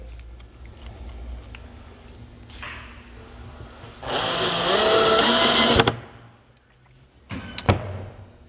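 A power drill drives a screw into a cabinet door during cabinet assembly, a loud steady whir lasting about two seconds amid quieter handling clatter, followed by a couple of sharp knocks.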